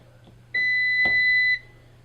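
A single clear electronic beep, about one second long, from a Speed Queen ADEE8RGS electric clothes dryer sounds close by over a faint background hum.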